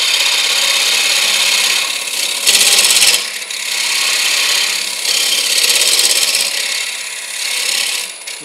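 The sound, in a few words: wood gouge cutting a green bowl on lathe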